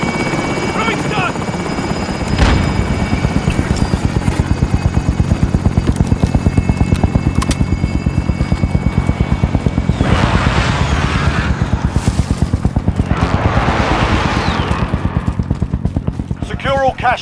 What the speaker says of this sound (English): Be advised, enemy attack chopper incoming.